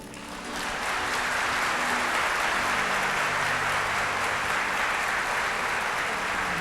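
Church congregation applauding, a dense steady wash of many hands clapping that swells in within the first second and holds evenly throughout, with faint voices underneath.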